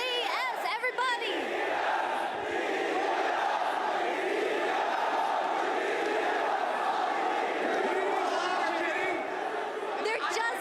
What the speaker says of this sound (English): the crowd is absolutely electric